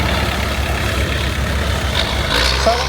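Vintage American prairie tractor, an orange and yellow machine at a country show, idling with a steady low engine rumble close by, a faint hiss near the end, no voices.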